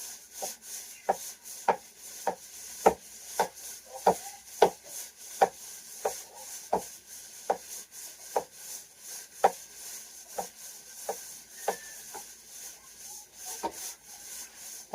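Garlic, onion, ginger and chili being chopped by knife on a wooden board, a steady rhythmic series of sharp, close knocks spaced about half a second apart, quiet and alone without voices.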